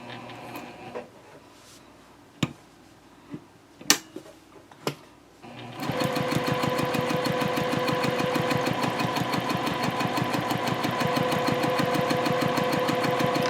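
Sewing machine stitching a handbag tote seam, starting after a few sharp clicks and taps, then running steadily and loudly with a fast, even mechanical rhythm until the end.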